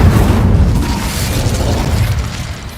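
A fire spell blast cast in Hogwarts Legacy, a loud, sustained roaring burst of flame with heavy low rumble lasting a few seconds, heard alone without voices.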